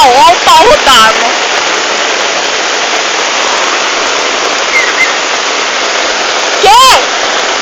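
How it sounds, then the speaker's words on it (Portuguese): A heavy downpour floods the ground with a loud, steady rushing roar of water that runs throughout. Voices cut in briefly at the start and again near the end. "Olha o pau d'água!"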